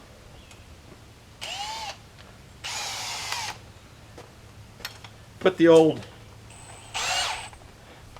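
A cordless power drill bores into wood at a sawmill in several short separate bursts, some with audible speed changes, with someone talking briefly between them.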